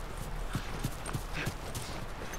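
Horse hooves clip-clop in the video game The Last of Us Remastered, a steady, moderately close, evenly paced beat over a constant ambient hiss.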